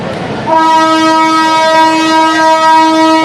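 A loud, sustained train horn blares at a crowded Indian railway station after a brief moment of background noise, holding steady for several seconds.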